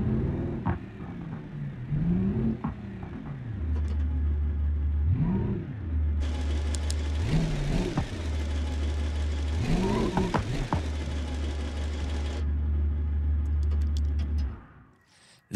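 An Ikarus 280 bus engine in BeamNG.drive runs loudly and steadily, with a low drone and repeated rising and falling revs, before cutting off abruptly at the end.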